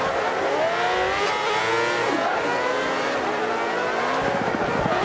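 An F1 race car in the Forza Motorsport 5 racing game roars continuously at high revs, its engine pitch climbing and dropping through gear changes, loud and up close, with no talking.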